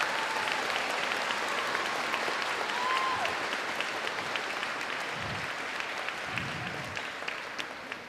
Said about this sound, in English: Give yourselves a great big applause.